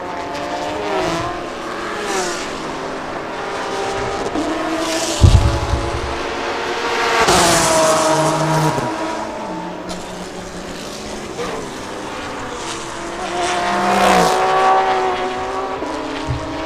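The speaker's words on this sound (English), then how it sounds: "buzzing engine noises from the TA, the GT4, GTM, and the GT3 as they warm around the track" Several race car engines from GT4, GTM and GT3 cars buzz and whine past on a track in Thailand, rising and falling in pitch as they accelerate, loud and close with overlapping passes.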